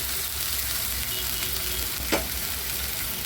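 Chickpea greens hit a hot tava with a steady, close frying sizzle, a brief sharp crackle bursting out partway through before the hiss settles back to an even level.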